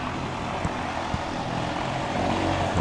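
An orange and black Air Cam aircraft at a short takeoff and landing practice event in Jennings, Louisiana, gives a steady propeller and engine drone at moderate distance, rising slightly in loudness toward the end.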